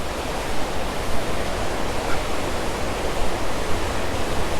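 Jonha Falls in India during the rainy season, a powerful waterfall producing a loud, steady, broadband roar of rushing water without pause, heard alone with no voices.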